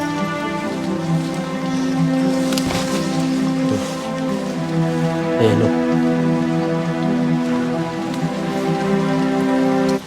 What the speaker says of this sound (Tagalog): umuulan kasi guys ngayon kaya kahit umulan iikutin pa rin natin